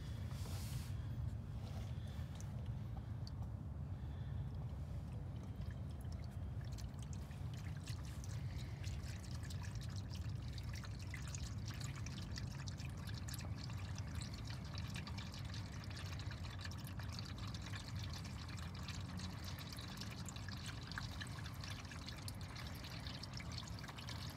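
Engine oil drains from a 2015 Kia Sorento with a 2.4L engine into a catch pan, a faint, continuous pouring trickle that holds steady throughout with no talking.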